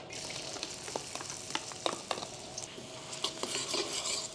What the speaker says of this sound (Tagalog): Tapos, magigisa tayo ng sibuyas.